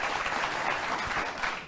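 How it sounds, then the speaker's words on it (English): A studio audience at a talk show breaks into sustained applause, a dense, even wash of clapping that fills the whole moment without pause. "clap away."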